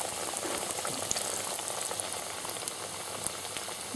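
Spicy plantain rolls fry in a pan with a dense, constant crackling sizzle that stays even and close throughout, with no voices.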